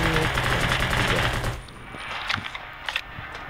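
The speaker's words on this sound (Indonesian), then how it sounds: "Oke, tembak dulu ya kan ini, karena nyembur zombinya banget." Rapid automatic gunfire from the survival game Undawn, fired at zombies in a redwood forest, a dense rattling burst for about a second and a half, then scattered single shots and clatter under quieter game sounds.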